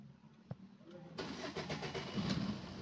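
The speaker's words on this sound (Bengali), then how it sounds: "তো গাড়িটা করে স্টার্ট করে নিই" A Maruti Swift Dzire car engine cranks after a click and a short pause, catching into a steady mid-pitched idle at close range.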